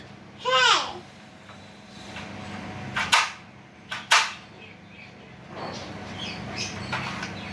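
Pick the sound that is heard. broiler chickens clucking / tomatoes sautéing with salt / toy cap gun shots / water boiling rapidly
toy cap gun shots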